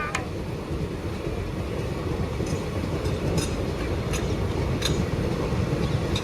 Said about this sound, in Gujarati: વહી ગઈ ટ્રેન ભાઈ